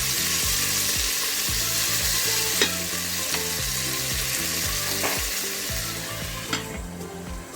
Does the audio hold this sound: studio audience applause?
no